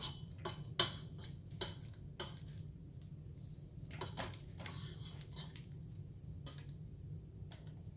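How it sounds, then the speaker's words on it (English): Spatula scraping down the side of a mixing bowl while making a homemade cheese ball, giving a series of short scrapes and clinks over a steady low kitchen hum. "now I'm gonna scrape down the side of my bowl here"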